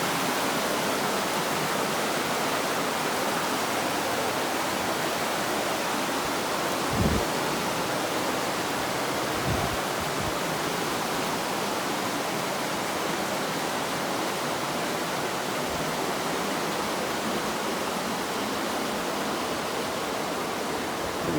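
A river rushes along the Appalachian Trail between Roan Mountain, Tennessee and Damascus, Virginia, a loud, steady, unbroken roar of water with only a couple of faint low thumps.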